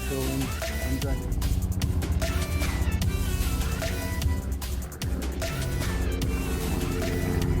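A car being driven, with steady engine and road noise filling the background throughout while a person talks over it.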